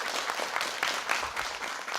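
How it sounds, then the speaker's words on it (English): A short burst of audience applause from a school spelling competition, with the scattered claps of a modest crowd rising and fading within about two seconds. "Oh, round of applause."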